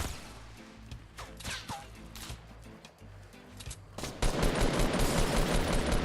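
Fortnite Battle Royale gunfire: scattered shots and whooshes early on, then a sustained loud burst of automatic fire dominates the final two seconds, with little talking.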